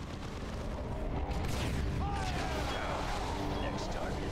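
Gunfire from sniper rifles in the Dawn of War 2 video game, Wrath of the Blood Ravens on hard mode: sharp reports fired close together over continuous dense battle noise.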